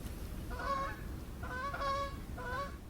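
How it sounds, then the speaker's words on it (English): Geese honk in three short bursts of nasal calls, evenly spaced over a soft background rumble, moderately distant. "it's full of the sound of geese."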